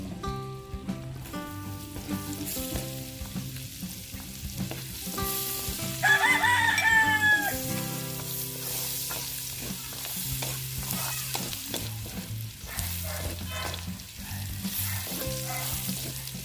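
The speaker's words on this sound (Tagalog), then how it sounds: "Magigisa po tayo ng sibuyas at bawang. Lagay po tayo ng bawang." Garlic sizzles and crackles in hot oil and margarine while being stirred for pork sinantomas, a steady frying hiss beneath background music with a rooster crowing briefly.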